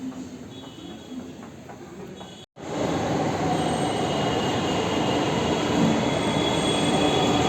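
A crowded metro train rumbles steadily with broad, close noise and faint squealing wheels; after a brief drop out, the roar continues loud and constant.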